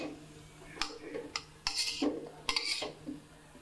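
Oyster sauce, sweet soy sauce, bouillon powder and salt stirred together in a bowl for fried noodles, with a few close clinks and scrapes of a utensil against the bowl in short bursts.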